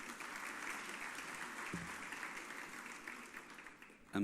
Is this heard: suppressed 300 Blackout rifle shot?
no